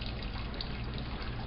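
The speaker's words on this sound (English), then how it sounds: "We're just going to pour a little of these juices in it." Meat juices from Swiss steak poured into a pan, a steady soft liquid trickle and splash running without a break, fairly quiet and close, with no talk.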